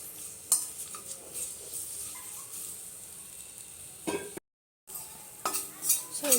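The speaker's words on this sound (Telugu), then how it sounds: "ఇది కూడా కొంచెం గీ వేసి ఫ్రై చేయాలి" Black raisins frying in ghee in a pan, soft sizzling with a few sharp spoon-stirring clinks and scrapes, close, with a brief gap of silence partway through.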